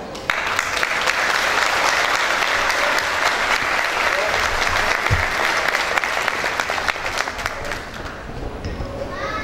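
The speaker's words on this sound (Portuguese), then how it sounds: "Que esses aplausos ecoem como celebração da memória, da cultura e do legado que hoje eternizamos em palavras." At a book launch celebrating a nativist cultural center's 50 years, an audience applauds steadily. The clapping is loud and sustained for several seconds, then thins slightly toward the end.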